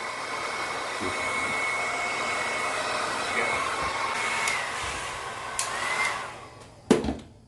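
A hot air blower whooshes steadily over a cassette tape, a loud continuous airy roar that shifts slightly in pitch as the setting changes, ending with a couple of clunks as it winds down.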